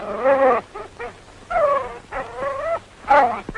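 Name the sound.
dog whimpering and fussing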